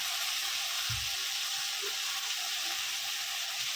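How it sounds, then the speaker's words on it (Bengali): Hot water poured into a pan of frying parshe fish curry with eggplant sets off a steady, close hissing sizzle that runs unbroken and fairly loud from start to finish, with no talking. "আমি এবার একটু গরম জল দিয়ে দেবো এর মধ্যে"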